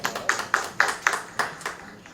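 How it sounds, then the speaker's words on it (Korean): Applause at a public healthcare policy forum in Korea: a small audience claps in a sparse, uneven rhythm of about nine distinct claps that fade out over two seconds, fairly close, with no talking. "우리 소병철 의원님께 뜨거운 박수 부탁드리겠습니다"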